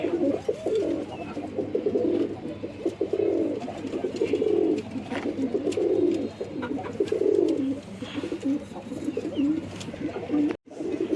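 Pigeons cooing close by, soft low repeated coos in a steady rhythm, with light background noise and no talking.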